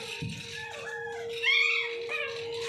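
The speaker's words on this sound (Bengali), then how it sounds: "এবার কুকুর বাচ্চাগুলো চেল্লাচ্ছে" Puppies yelp and whine in a string of rising and falling cries, fairly close, swelling loudest midway through, over a steady background tone with no talking.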